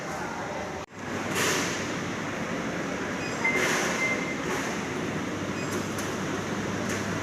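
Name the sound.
KA Majapahit passenger train arriving at the station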